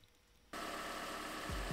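A 2014–2015 Toyota Corolla with a 1.8L 2ZR-FE engine fires up after a quiet pause, then settles into a steady, broadband idle hum that stays loud and close to the end.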